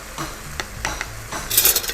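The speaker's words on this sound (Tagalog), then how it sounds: "Gisang-gisado ito" Ingredients being sautéed in a pan for Kapampangan batchoy, with patis added: short scraping and clinking stirs of a utensil against the pan over a light sizzle, brief and close, no talking.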